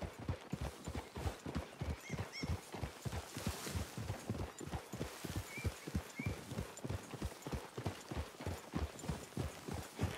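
Steady clip-clop of horse hooves at a trotting pace in Red Dead Redemption 2, with the occasional whinny over soft outdoor ambience and faint voices.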